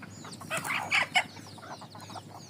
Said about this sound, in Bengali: হলো ছাদে মুরগি পালতেছি, দেশীয় মুরগি।